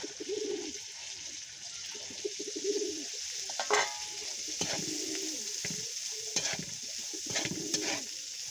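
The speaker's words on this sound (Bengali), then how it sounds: "আর এদিকে মাছ ভাজার জন্য পেঁয়াজ দিচ্ছি।" Onions frying in a pan for fish, a steady close sizzle with periodic scraping stirs, while birds coo and chirp in the background; no talking.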